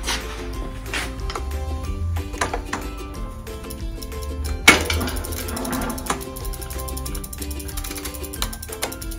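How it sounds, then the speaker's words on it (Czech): A wrench loosening a bicycle crank during a home bike repair, heard as a series of sharp metallic clicks and ratcheting taps across the clip, with one louder clank near the middle, close and fairly quiet. "Povolíme kliku."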